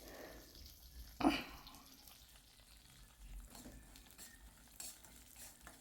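Mustard seeds, fenugreek, cumin, urad dal and dried red chilies fry in oil for a coriander pickle, giving a soft, steady, faint sizzle. A single clink of a utensil comes early on, and there is no talking.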